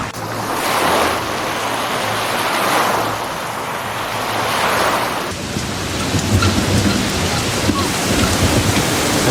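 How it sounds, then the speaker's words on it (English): Heavy rain pours steadily while deep thunder rolls through in long swells, with a loud, dense roar of falling water throughout. "As the rain began to pour down"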